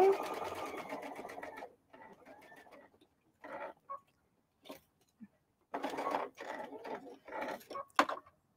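A sewing machine stitching a seam on a teddy bear, with bursts of close mechanical stitching that start and stop between pauses and sit alongside some talking.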